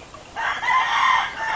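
A rooster crows loudly and close by at a game farm in Liliw, Laguna, Philippines, one long sustained call with hen clucking mixed in.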